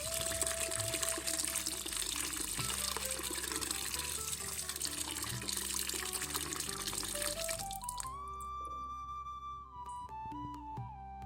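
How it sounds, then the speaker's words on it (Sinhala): Bilimbi fruits are rinsed in clean running water, which gives a steady, fairly close splashing flow that eases off near the end as clear tonal clinks and resonant ringing notes take over. "මේ විදිහට බිලින් ගෙඩි ටික හොඳට පිරිසිදු ජලයෙන් සෝදලා අපි අරගමු"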